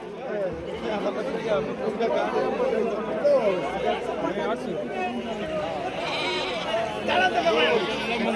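Goats and sheep bleat repeatedly at the busy Shirur livestock market, their wavering cries mixing with a close crowd chatter and bargaining voices throughout.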